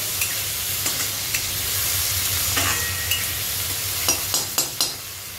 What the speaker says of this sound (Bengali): টমেটো আর আদা কুচিটাকে ভালো করে ফ্রাই করে নেব